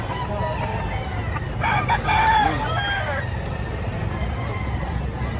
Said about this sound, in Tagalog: 2 taong manok